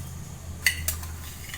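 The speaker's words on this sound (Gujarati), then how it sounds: "2 ચમચી ખાંડ નાખવાની છે।" Spoon clinks against a dish twice while sugar is added in a home kitchen, two sharp metallic taps over a low steady hum.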